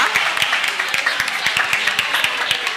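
An audience applauds at a school quiz competition. The clapping is loud, steady and brisk, with sharp individual claps standing out from the crowd and continuing throughout without letup.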